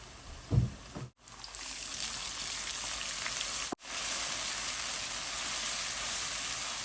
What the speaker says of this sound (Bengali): মশলাটা এখন আমি ভালো করে কষিয়ে নেব